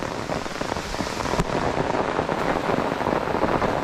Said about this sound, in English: A rainstorm